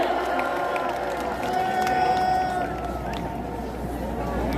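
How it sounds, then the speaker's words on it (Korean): A large outdoor crowd at a Gwanghwamun rally and joint worship service applauds and cheers, a broad roar of clapping and voices heard at a distance under a sustained tone, continuing throughout. "박수로 모십니다"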